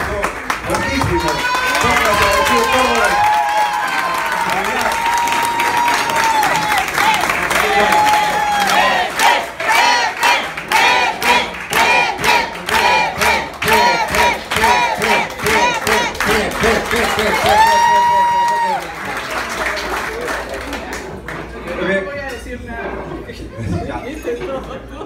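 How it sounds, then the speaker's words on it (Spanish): Lively crowd at a family celebration cheering, whooping and clapping for a long stretch, with rhythmic clapping in the middle and loud shouts throughout, tapering to chatter near the end. "Un aplauso grandísimo."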